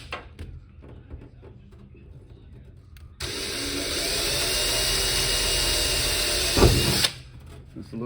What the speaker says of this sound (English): I'm gonna use a very small drill bit here to get the holes started